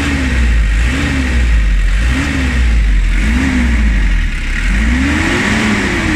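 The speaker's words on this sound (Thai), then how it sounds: "ฟังเสียงเครื่องนิดนึง" A van's engine revs repeatedly, a steady mid-pitched motor drone rising and falling in roughly one-second surges, close and loud, with a longer climbing rev near the end.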